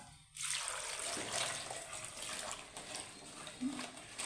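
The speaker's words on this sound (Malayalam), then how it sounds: "നമുക്ക് കുറച്ച് വെള്ളം ചേർക്കാം" Water pours in a steady rushing stream into a pot of breadfruit curry, splashing continuously for several seconds after a brief quiet start.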